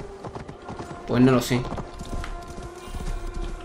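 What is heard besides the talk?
horse hooves clip-clop in Assassin's Creed Valhalla video game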